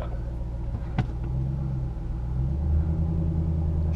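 A Ford Shelby GT's engine rumbles steadily as the car eases into a garage, a deep, loud, continuous idle-like drone with a brief sharp knock near the start and a slight rise in intensity later.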